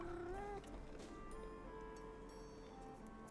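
A cat meows with a rising, drawn-out call at the start, then fades under low indoor background hum for the rest of the moment.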